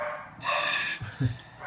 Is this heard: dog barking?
yes